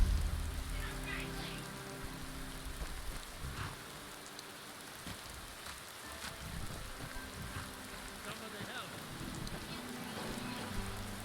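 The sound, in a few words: rain falling in a video game with Wonders of Weather mod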